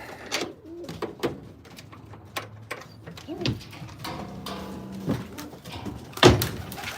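Pigeons in a breeder loft give low soft coos and some wing and movement sounds, with scattered knocks and a louder thump near the end. A person talks quietly at times.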